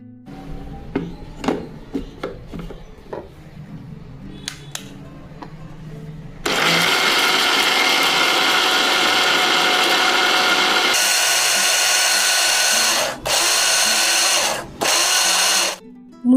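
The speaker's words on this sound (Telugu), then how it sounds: "ఇప్పుడు వీటిని మిక్సీ జార్లో వేసుకుని మిక్సీ పట్టుకోవాలి." Small clicks and knocks as soaked wheat goes into a mixer jar, then a loud mixer grinder motor roars steadily, changes tone partway through, and stops briefly twice before restarting.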